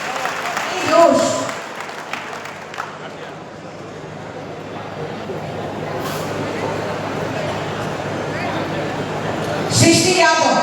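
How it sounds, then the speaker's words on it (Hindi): An audience claps steadily at a student award ceremony in Nawadih, a dense, sustained patter of many hands. A voice is heard over it near the start and again at the end. "तालियों में जोश होना चाहिए"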